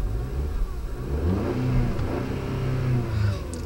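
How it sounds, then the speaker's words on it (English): A 2012 Audi A4 2.0T Quattro's 211-horsepower turbocharged four-cylinder revved while parked, up to its roughly 3,700 rpm limit in park. Its steady, loud engine drone swells and holds close by, with no talking. "So we'll give the engine a little bit of a rev."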